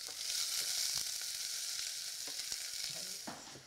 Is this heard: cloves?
yes